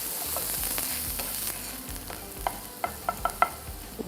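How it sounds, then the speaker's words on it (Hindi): Chopped onions fry in hot oil, giving a dense steady sizzle up close, with a string of sharp clicks and taps from stirring toward the end. "अब तेल गरम हो गया है तो अब हम डालते हैं हमारे चॉप्ड अनियन"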